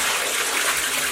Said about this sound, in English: So what we'll do now is we'll just tip out the water.